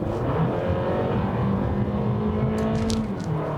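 A 2020 Toyota Camry AWD sedan in sport mode gives a steady engine hum from inside the cabin, moderate and even with a slight rise in pitch.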